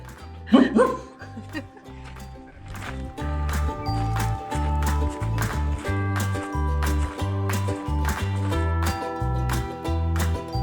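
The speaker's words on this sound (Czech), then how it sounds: "To je panečku chodský pes." A Chodsky dog, also called a Bohemian Shepherd, gives a short burst of barking near the start, followed by steady rhythmic music playing for the rest.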